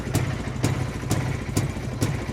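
A Jawa motorcycle engine running, fitted with a Soviet ignition switch, chugging unevenly close by with sharp regular pops about twice a second throughout.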